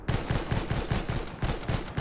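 Rapid bursts of Battlefield 1 video game gunfire in a steady rhythm, several volleys over two seconds, loud and close with no talking.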